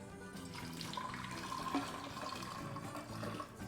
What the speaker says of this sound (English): Add boiling water into tea bags.